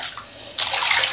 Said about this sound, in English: I'm gonna let the water out